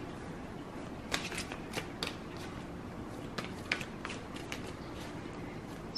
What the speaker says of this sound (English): I'm going to pull some more cards here.